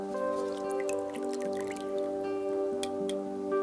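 Fabric soaked in salted water is lowered into a lukewarm pot of aniline dye, giving soft drips, trickles and wet squishes close by over a steady tonal background hum, with no talking.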